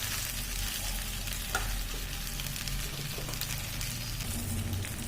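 Grated coconut frying and being stirred in a pan for a Tamil chutney, a constant loud sizzle with scraping stir strokes, no talking.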